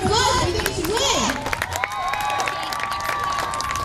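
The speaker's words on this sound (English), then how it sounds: "Give him a big round of applause." A crowd applauds and cheers for a truck at a Wembley demolition derby, a loud, dense wash of clapping heard from a distance beneath a voice on the loudspeakers.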